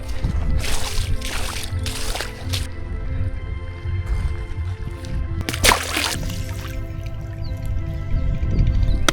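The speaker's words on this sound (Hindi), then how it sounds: "तो अब इसे डालेंगे हम नदी में, ठंडा करते हैं पहले" A 5-6 kg watermelon is lowered into river water to cool, giving irregular splashes, sloshing and drips close by, with bursts of broadband water noise over a steady outdoor rushing background.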